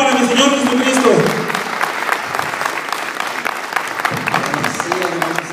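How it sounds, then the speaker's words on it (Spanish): A church congregation breaks into strong, sustained applause, with voices rising and calling out over the dense clapping throughout. "Denle ese aplauso fuerte"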